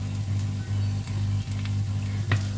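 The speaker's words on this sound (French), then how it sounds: "Et je laisse toujours cuire mes oignons" Onions cooking in a pan give a steady, close sizzle. A low hum with brief dips sits under it, and a short clatter comes near the end. No one speaks.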